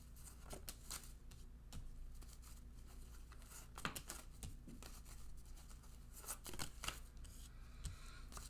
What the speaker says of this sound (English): I want to pull one more card or maybe two more cards